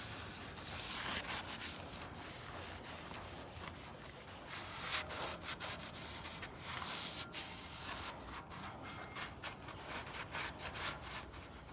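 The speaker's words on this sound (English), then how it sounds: "I gave that a really thorough wiping down with the mineral spirits" A rag rubbing and wiping a vehicle frame or chassis with mineral spirits, soft repeated scrubbing strokes, fairly quiet and close, with no talking.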